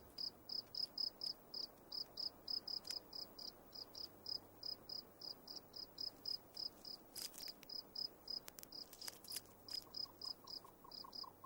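Crickets chirp in steady rapid pulses across a savanna, a continuous close trilling that runs throughout with a few brief sharp clicks partway through.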